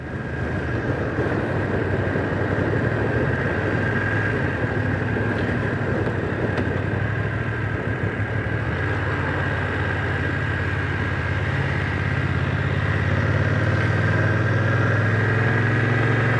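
A 2025 BMW F900R motorcycle cruises in third gear at around 30 mph, its engine holding a steady, smooth drone with low wind rumble and no speech throughout.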